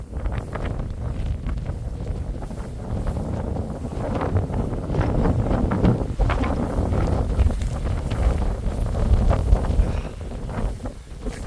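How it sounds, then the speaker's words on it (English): Strong outdoor wind buffets the microphone continuously, a loud low rumble with gusty surges throughout, no voices present. "Bloody windy as hell"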